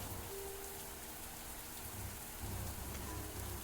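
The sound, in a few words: rain falling, in a visual novel video game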